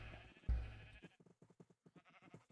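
Minecraft sheep bleating in a crowded pen, a loud nasal bleat followed by a run of short, rapid bleats and clicks, close and alone without talk.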